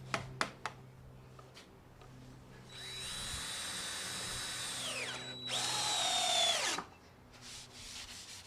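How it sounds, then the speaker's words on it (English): A power drill drives screws into wood while a table top stand is built, with a couple of sharp knocks first and then two whining bursts, the second louder and higher, close by and without speech. "You want those screws to go deep into the wood."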